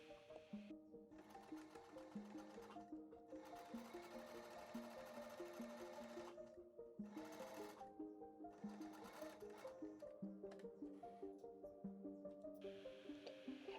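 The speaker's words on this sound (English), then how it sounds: "2 passes on the sewing machine" A sewing machine stitches fabric face-mask seams steadily, its rapid mechanical stitching rhythm continuous with a few brief pauses, close and fairly quiet.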